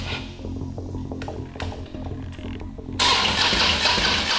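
Harley-Davidson motorcycle engine cranking with a few stuttering attempts before catching at about three seconds, then settling into a loud, rough, close running rumble, with no talk.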